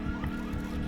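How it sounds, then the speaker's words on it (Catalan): Police car sirens wail steadily in the zombie video game Dead Island, a sustained rising and falling electronic tone at moderate volume with no speech over it. "Cotxes de policia."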